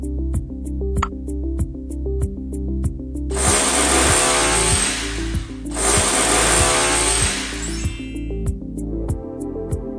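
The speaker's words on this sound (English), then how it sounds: "Now make a small hole with drill machine halfway up on one side of the bottle" A drill whirring in two bursts as it bores a small hole into the side of a plastic bottle, loud and close, over a repeating background beat.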